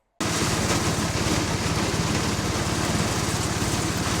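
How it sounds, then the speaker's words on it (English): An engine-driven maize dehusker and sheller with an internal dust blower runs steadily after a short silent start, giving a loud, even mechanical drone with a rapid chugging pulse. "There is a blower that's installed inside and it sucks out all the fine dust particles"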